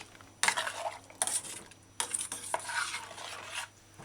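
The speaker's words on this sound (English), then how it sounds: "Add the coconut milk in the saucepan." A spoon stirs coconut milk into potato stew in a saucepan, making repeated close scraping strokes against the pan with a soft wet swishing underneath.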